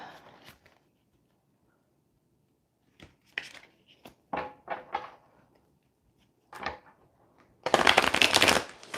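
Cards are shuffled in several short riffling bursts, ending in a longer, louder riffle, with quiet pauses between.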